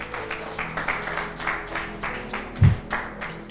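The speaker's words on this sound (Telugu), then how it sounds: "చప్పట్లు కొడదాం ఆ స్త్రీకి." An audience at a sermon-style talk applauds a woman with light, scattered clapping that rises and falls, with one louder thump partway through; no speech is heard.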